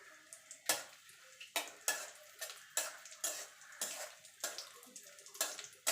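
Raisins being fried in ghee in a pan for semolina halwa, with about eight sharp stirring scrapes of a spoon against the metal pan at a steady rhythm over a soft sizzle.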